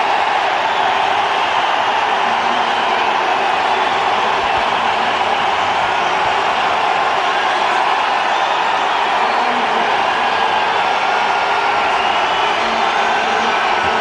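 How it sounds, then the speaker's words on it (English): A huge cricket crowd in Bangalore roars and cheers without a break as Sachin Tendulkar walks out to bat in a 2008 India vs Australia test, a dense, far-off wall of sound. "Just listen to Sachin Tendulkar's reception."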